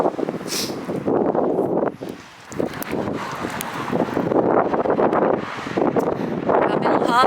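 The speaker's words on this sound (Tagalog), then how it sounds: "Grabe ang hangin." Strong, cold wind blowing outdoors on a street in Spain, buffeting the microphone with a loud, continuous rushing roar that dips briefly before surging again.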